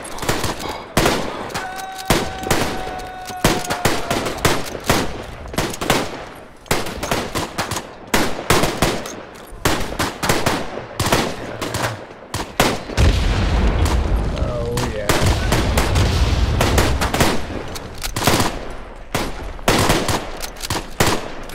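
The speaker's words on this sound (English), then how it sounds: "Serious mortar, precision mortar strikes in." Precision mortar strike in the WWI game Tannenberg, a long run of loud sharp gunshots and machine-gun crackle punctuated by heavy booms, then a sustained deep rumbling barrage of impacts near the end.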